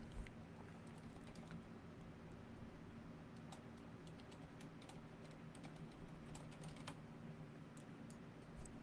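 A name is typed on a computer keyboard, quiet rapid key clicks in irregular bursts over a faint steady hum.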